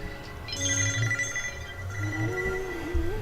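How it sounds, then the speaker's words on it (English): Mobile phone ringing during a Feed The Beast gameplay session, a repeating electronic ringtone melody sounding steadily at moderate loudness over low background hum, with no speech. "my phone keeps ringing and I didn't shut it off"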